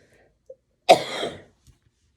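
A single close, loud cough from a woman breaks the quiet, a short harsh burst trailing off after about half a second.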